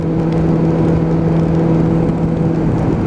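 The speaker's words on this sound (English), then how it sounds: "just bury the throttle one more time" A Suzuki Bandit 600 motorcycle with a carburettor issue runs at full throttle on a straight road, a loud, steady engine drone with a strong, even tone held throughout, close and continuous.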